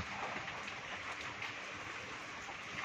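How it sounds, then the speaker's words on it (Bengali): Steady rain from Cyclone Remal hisses down continuously, a dense even wash of falling water with no voices. "ওই দেখ কি সুন্দর বৃষ্টি পড়ছে, কি সুন্দর ঝড় হচ্ছে।"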